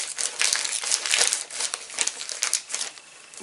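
A taped parcel holding books is being opened, with close, loud crinkling and crumpling of packaging in uneven bursts and a few sharper tearing snaps, easing off near the end, with no talking.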